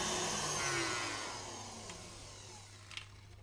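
Electric hand mixer whipping egg whites for a Christmas coconut, exotic fruit and dark chocolate yule log, a steady whirring hum that fades and slows toward the end as the beater is stopped, with a faint clatter near the end.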